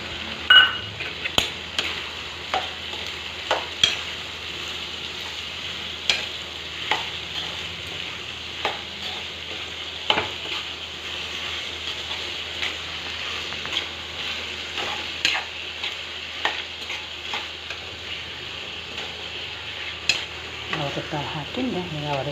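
Tomato and field beans frying in a pan for upma, a steady soft sizzle punctuated by repeated scraping stirs of a spoon against the pan, close and moderately quiet.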